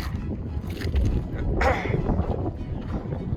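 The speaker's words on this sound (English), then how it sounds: "Super windy, feels good because it's a hot day." Steady wind buffets the microphone on a mountain pass, Anderson Pass in the Uinta Mountains, with a low rumbling roar, gusting briefly louder midway, with no voices.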